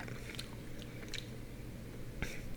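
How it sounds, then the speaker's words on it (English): Soft pretzels eaten close to the mic, with wet chewing and a few sharper bites and smacks standing out over steady mouth sounds, no talking. "So just some eating sounds today instead of gum chewing for once, I guess."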